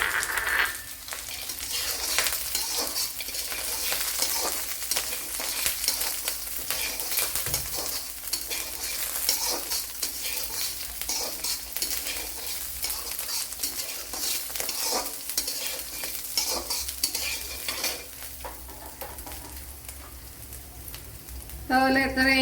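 Peanuts frying and being stirred in a pan, a steady sizzle with repeated scraping and stirring strokes that runs throughout, while preparing Kerala-style idli upma.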